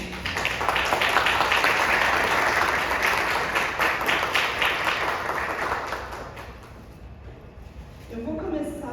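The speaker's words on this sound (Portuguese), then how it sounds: "Uma salva de palmas." Audience applause at a talk on autism, sustained clapping from a crowd that gradually thins and fades, with a voice starting to speak at the very end.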